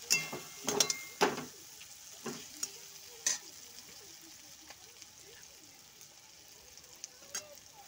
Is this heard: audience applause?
no